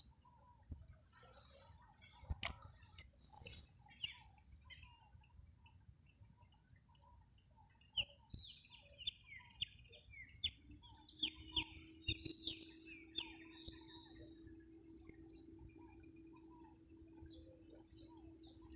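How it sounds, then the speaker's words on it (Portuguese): Birds chirp and sing in scattered bursts beside a river on a warm morning at a rural fishing spot, with steady water and insect-like background hiss and occasional ticks. "Olha o canto dos pássaros."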